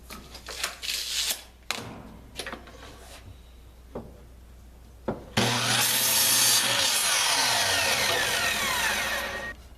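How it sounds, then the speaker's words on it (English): 2x4 lumber being cut into trim pieces: a few short handling knocks and scrapes, then a loud sustained power-saw cut through the wood that runs steadily to the end. "I'm going to break down my 2x4s into the sizes I need for the trim"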